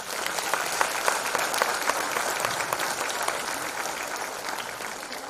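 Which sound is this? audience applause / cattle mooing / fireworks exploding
audience applause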